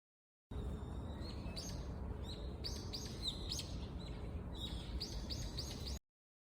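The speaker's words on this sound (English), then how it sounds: "Kingfisher." Kingfisher calling in the wild, with a series of short, sharp high chirps and rattling notes over steady low background noise, fairly faint and repeated throughout.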